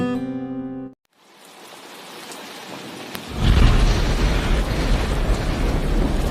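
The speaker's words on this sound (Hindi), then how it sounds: "कितनी जोर की बारिश हो रही है" Heavy rain pours down in a loud, steady broadband roar that swells after a brief hush, with a sharp crack near the start that hints at thunder.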